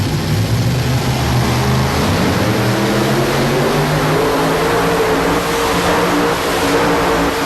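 Modified pulling tractors at a 1999 tractor pull in Louisville, Kentucky roar loudly and continuously, with engine pitch rising and shifting as they strain down the track, three running together and no voices over them.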